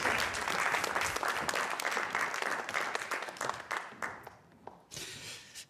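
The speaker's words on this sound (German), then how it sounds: "Applaus. Applaus, bitteschön." Audience applause at a poetry reading, a dense burst of many hands clapping together that gradually thins out and fades near the end.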